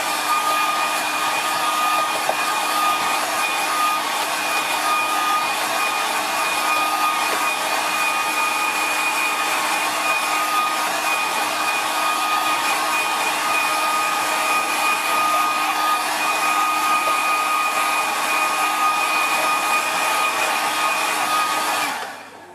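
A hair dryer blows steadily and loudly close by for about twenty seconds while drying a watercolour painting, its even whooshing hum unbroken until it switches off at the end.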